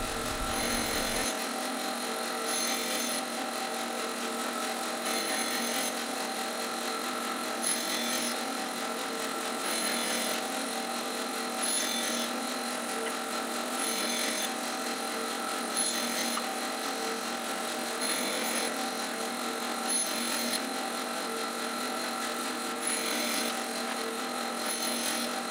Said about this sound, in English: just cutting the wedges.